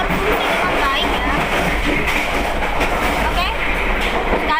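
Passenger train running on the rails near Garut station in Indonesia, a steady broadband rumble with faint clickety-clack and high squeals, continuous and fairly loud, with people talking over it.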